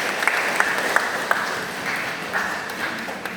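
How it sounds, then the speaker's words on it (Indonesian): Congregation applauding at a thanksgiving Mass for a nun's final vows, with dense steady clapping and a few sharper individual claps standing out, loud and close. "Kita beri tepuk tangan yang meriah untuk Suster"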